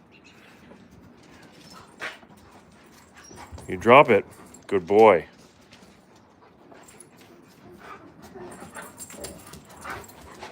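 Alaskan Malamutes at play let out two short, high whimpers close together, loud against a quiet background, while someone talks to them before and after.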